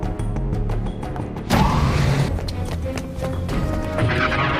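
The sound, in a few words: Star Wars escape pod launch sound effect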